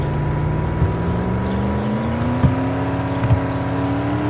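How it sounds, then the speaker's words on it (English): A Ford Shelby GT350R driving on a track, its engine a steady loud drone with a slowly rising pitch and a few faint clicks and thumps over it. "Now we're going to take the Shelby out and test it."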